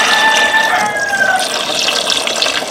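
Tap water runs steadily into a sink while fish is washed, a loud close splashing flow with no talk over it.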